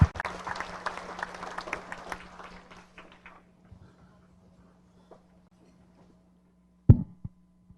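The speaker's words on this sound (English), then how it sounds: "Got a round of applause for the family, didn't we?" Audience applause at a sprint car hall of fame induction ceremony, a crowd clapping that fades out over a few seconds, followed by near silence and a couple of sharp knocks.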